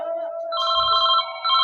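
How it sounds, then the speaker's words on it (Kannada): A telephone rings as a call is placed during a Kannada village stage drama: a loud, close electronic ringtone of sustained warbling tones with a short break, and no talk over it. "ಮೊದಲು ಸಂದೀಪನಿಗೆ ಫೋನ್ ಮಾಡಿ ಕೇಳಿ ನೋಡೋಣ."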